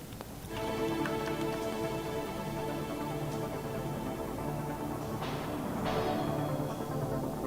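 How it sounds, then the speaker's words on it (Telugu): Steady rain falls during Cyclone Ditva, a dense continuous patter of drops on surfaces, fairly close and even throughout with no voices. "దక్షిణ కోస్తా రాయలసీమలో చాలా చోట్ల వర్షాలు అయితే ఇప్పుడే కురుస్తున్న పరిస్థితి అయితే కనిపిస్తూ ఉంది"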